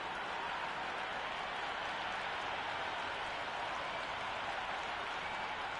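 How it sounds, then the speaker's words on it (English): A big cricket stadium crowd roars in a steady, dense wash of noise before the first ball, loud and continuous with no breaks. "The crowd are making a heck of a lot of noise even before the first ball's been bowled"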